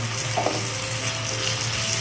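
Fish oil sizzles steadily in a pan where onion and garlic are frying until reddish-brown, for a Bengali rohu fish-oil chochori with brinjal; a continuous close, even crackling hiss with no talk.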